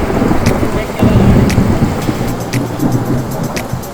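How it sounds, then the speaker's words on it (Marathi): Monsoon rain falling in a forest valley near a riverside, a dense steady downpour with deep rumbling thunder rolling beneath it, loud and close. "पावसाचो प्लॅन कितें वेगळो आसलेलो आणि पावस स्टार्ट जाल्लो आसा"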